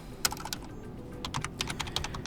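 Someone types on a computer keyboard, a quick, close run of light clicking keystrokes with uneven spacing over a faint background hum.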